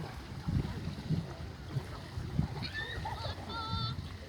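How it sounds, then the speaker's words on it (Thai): A longtail boat on the Ubolratana Dam reservoir gives a low, rumbling wash under wind noise, while a person talks over it close to the microphone. "อันนี้ก็จะเป็นเรือหางยาว"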